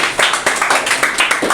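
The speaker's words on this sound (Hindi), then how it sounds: "तालियां होनी चाहिए" A group of students at a coaching class claps in a brisk, loud burst of applause throughout, with no talk over it.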